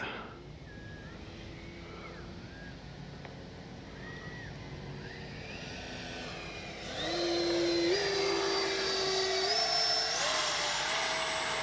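A Freewing 70mm electric ducted-fan RC F-35 jet flies by at high alpha, its thin whine shifting pitch as it passes and swelling louder toward the end, heard from a distance.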